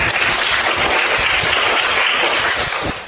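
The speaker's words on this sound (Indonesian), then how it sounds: "terima kasih tepuk tangan untuk kita semuanya" Steady, dense applause from an audience at a university teacher-training ceremony in Malang, loud and continuous throughout with no talking over it.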